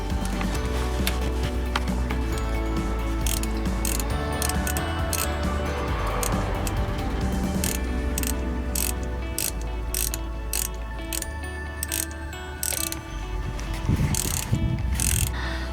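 A ratchet wrench tightens a bolt on the transmission valve body of a 2006 Ford F-150, clicking in fast bursts over a steady mechanical hum, close up, with no talking.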